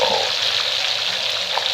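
Steady, dense sizzling of tilapia frying in hot oil, continuous and close, with no talking.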